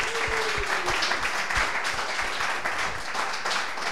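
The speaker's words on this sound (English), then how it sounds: "How about another clap for our Barwon Heads crowd?" A studio audience from the Barwon Heads crowd claps steadily throughout, a dense patter of hands with a few cheers, with no talk over it.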